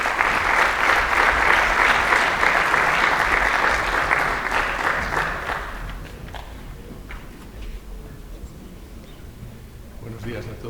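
A conference audience in Vila-real gives sustained loud applause for the first six seconds, then the clapping fades into quieter room noise with scattered thumps.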